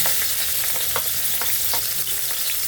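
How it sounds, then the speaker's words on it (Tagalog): Garlic frying in cooking oil in a pan for coconut-milk shrimp and mussels, giving a steady, close sizzle with a few light stirring clicks and no talking. "Yan, naglagyan ko ng mantika. Lagyan natin ng bawang."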